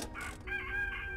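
A rooster crow from an animal noise toy: a single short electronic cock-a-doodle-doo, clear and near, with no talking over it.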